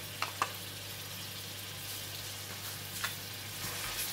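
Spices with ginger and garlic paste fry in hot oil for a pork ribs curry, giving a steady, fairly quiet sizzle with a few soft clicks of stirring near the start and again around the third second.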